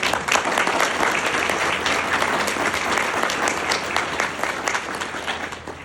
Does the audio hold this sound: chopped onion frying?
no